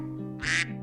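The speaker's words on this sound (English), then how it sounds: "The female will do this decrescendo call of 2 to 10 quacks, starting with a really loud one and getting shorter and softer as they call." A female mallard duck gives a single loud, harsh quack that is brief and close.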